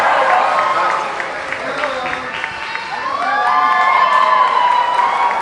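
A crowd at a high school graduation cheers, whoops and claps for a performing group, loud shouts and excited voices swelling over scattered applause, rising again toward the end.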